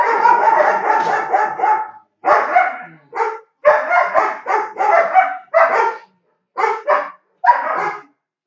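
Dogs, including a Doberman and a Bulldog, bark loudly and close by in repeated rapid bursts with short pauses, some yips mixed in.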